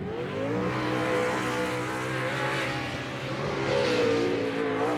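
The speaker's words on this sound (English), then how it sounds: "Chad Horde in the lead in this race right now in that red truck" Off-road Pro 2 race truck engines roar continuously during a desert short-course race, loud and sustained with rising and falling revs as trucks push on, no voices over the din.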